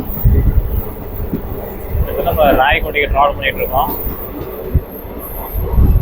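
A train rolls along its rails through forested country in the rain, its steady rumble and clatter filling the carriage while someone talks over it.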